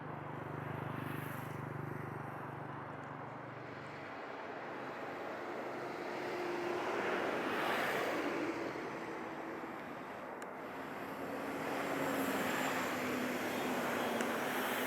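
An airplane roars through its takeoff run at Montego Bay airport, a broad, steady rumble that swells and fades in waves as it accelerates down the runway at a distance.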